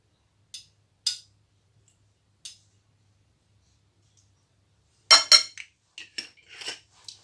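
A spoon stirs ground almonds, cinnamon and orange blossom water in a bowl, giving a few sparse scraping clinks at first, then a quicker cluster of metallic taps near the end.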